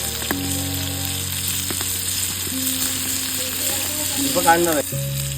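Chicken kaul frying in oil, a loud continuous close sizzle with some stirring, accompanied by a steady background hum.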